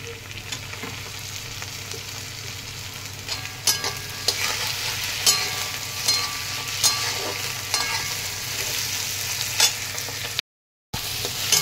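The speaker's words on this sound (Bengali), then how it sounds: "দিয়ে পেঁয়াজটাকে একটু ভালো করে ভেজে নেব। পেঁয়াজটা কিছুটা ভাজা করে নেওয়ার পরে দিয়ে দেবো টমেটো কুচি।" Chopped onion and tomato fry in oil in a pan, giving a steady close sizzle with recurring scrapes and taps of a spoon stirring, and no talking.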